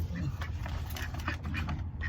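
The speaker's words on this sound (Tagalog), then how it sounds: "So, ayan yung pato natin." Ducks quacking repeatedly nearby in short bursts over a low, steady rumble of background noise.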